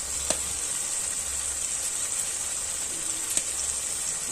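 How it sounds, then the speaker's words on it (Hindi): Chilli-powder spice masala with softened tomato roasting in a pan for a Chhattisgarhi-style katla fish curry, giving a steady, moderately loud sizzle with a few sharp crackles and no talking. "अच्छे तरीके से हम मसाला को भून लेंगे"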